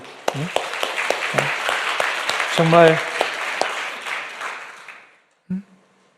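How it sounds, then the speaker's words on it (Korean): Church congregation clapping in thanks during a Sunday sermon, a dense burst of applause filling the room for about five seconds, with a preacher's voice speaking over it, then fading to near silence before a short spoken word. "우리 하나님께 한번 감사의 박수를"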